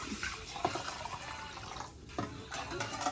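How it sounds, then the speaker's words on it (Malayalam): Clam cooking water is poured into a heating pan for Kollam-style clam dish, a splashing, gurgling liquid stream close by, pausing briefly before resuming. "കക്ക വെള്ളം അതിലോട്ട് ഒഴിച്ചു കൊടുക്കണം"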